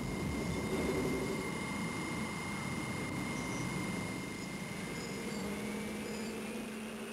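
A Northrop YF-5A jet aircraft on its first flight: a steady, fairly faint jet engine roar with a sustained whine, even and continuous throughout with no voices.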